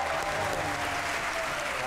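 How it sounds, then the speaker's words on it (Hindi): Dense, steady applause from a TV studio audience during a comedy talk show, continuous and loud for the whole short span. "आपकी भरपूर तालियों में अहमद शहजाद।"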